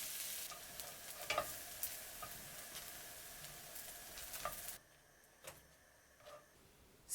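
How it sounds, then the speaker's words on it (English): Buttered bread slices grilling in a pan over medium-low heat give a steady, close broadband sizzle, broken by a few soft clicks and scrapes. The frying noise stops abruptly near the end, leaving quieter ticks and light kitchen sounds. "Let both sides grill for about 4 to 5 minutes over medium-low heat."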